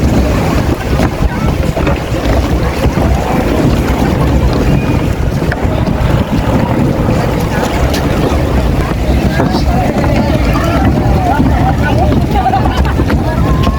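Speedboat ride at sea off Boracay, a continuous roar of engine and rushing wind and water that stays loud and steady throughout, with voices talking over it.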